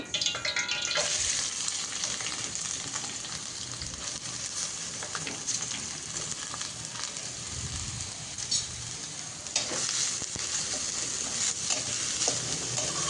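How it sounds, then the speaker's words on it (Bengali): Chopped onions fry in hot oil in a cooking pot, giving a continuous bright, crackling sizzle with small stirring scrapes, steady and moderately close throughout. "এভাবে করে এখন পেঁয়াজটা আমি একটু ভেজে নিব"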